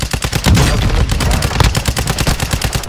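Rapid automatic gunfire in the video game Call of Duty Warzone, dense bursts of loud overlapping shots cracking and booming continuously for a few seconds, close and without speech.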